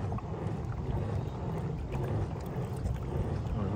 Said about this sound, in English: This thing is moving and way better than paddling